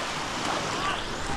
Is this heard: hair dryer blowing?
no